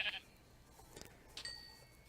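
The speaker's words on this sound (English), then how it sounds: "those sheep will do nicely" A Minecraft sheep in the Thaumcraft mod bleats in short, faint, synthetic-sounding calls, with a couple of brief bleats alone against near silence.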